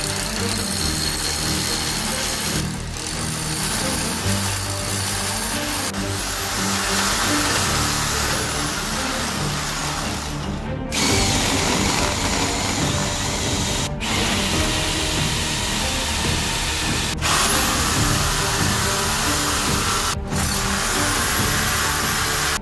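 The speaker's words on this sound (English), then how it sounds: "I've got several drill bits in different sizes to go up and up and up" A power drill whirs continuously, grinding up through a roof with a steady high buzz, pausing briefly several times before starting again.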